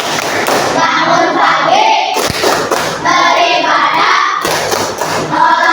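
A group claps along in a rhythmic hand-clap chant about the seven habits of Indonesian children, loud, close, steady thumping claps mixed with voices calling out the habits.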